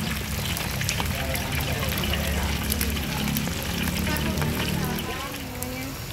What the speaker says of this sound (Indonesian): Ular kita sudah masuk penggorengan ini guys.